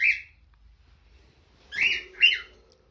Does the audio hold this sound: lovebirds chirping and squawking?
yes